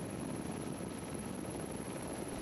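A support helicopter flies over a mountain skyrace course near Lake Ledro, heard as a steady, even rotor and engine roar throughout with no talk.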